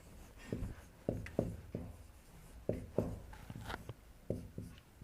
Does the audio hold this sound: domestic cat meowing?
no